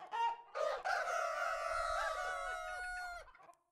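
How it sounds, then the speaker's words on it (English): A rooster crows at dawn in the Minecraft Animania mod, giving one close, clear cock-a-doodle-doo in an otherwise quiet scene, preceded by a couple of short clucks. "the roosters at least, will crow at the dawn"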